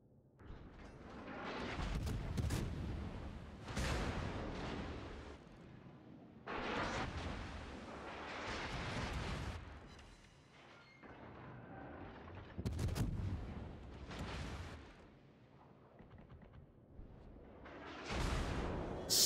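Heavy naval gunfire pounding around the battleship Hindenburg in World of Warships, repeated booming salvos and shell impacts arriving in waves every few seconds with rumbling decay between them.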